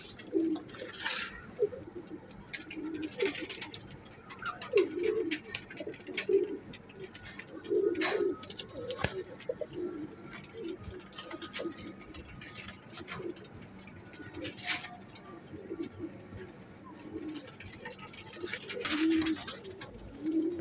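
A pair of dub kamagar pigeons coos steadily in soft, low, rolling calls that repeat throughout, fairly close, with faint ticking and light background noise and no talk.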